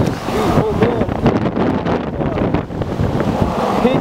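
Strong high winds roar through a Los Angeles street, buffeting the microphone with loud, gusty rumbling and flapping noise throughout, with debris about and someone talking under it.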